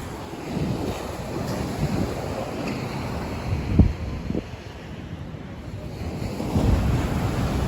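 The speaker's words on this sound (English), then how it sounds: "and the wave is so big" Big ocean waves roll and break at Zuma Beach at sunset, a loud continuous wash of surf with wind buffeting the microphone and a sharper crash swelling near the middle and again toward the end.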